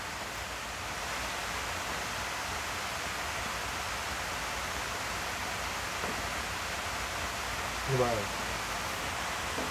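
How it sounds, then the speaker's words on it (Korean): Winter rain falls steadily outside a rural farmhouse during a massage and moxibustion session, a soft continuous hiss throughout, with a faint brief voice near the end. "빗소리 들리니까 되게 좋다."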